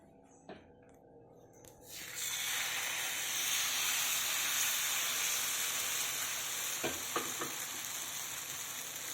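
Chopped onion drops into a hot pan for egg dosa, a few faint knocks and then a sudden loud burst of sizzling that settles into steady close frying hiss, with a couple of stirring taps near the end.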